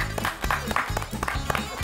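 A handful of people on a rural countryside-vacation cooking show clap in quick rhythmic bursts over steady background music, close and fairly loud.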